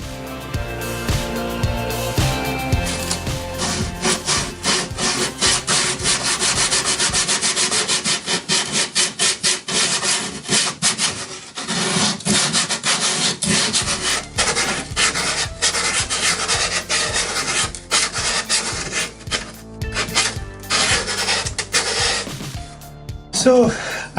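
A wooden guitar body's curves are sanded by hand, making rhythmic, scratchy rubbing strokes in quick repeated bursts, close and loud, with background music playing underneath.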